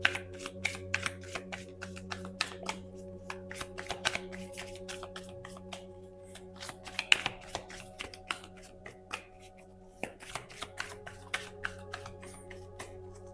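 Tarot cards shuffled by hand in a quiet room, a rapid run of close, crisp riffling clicks that continues almost without pause.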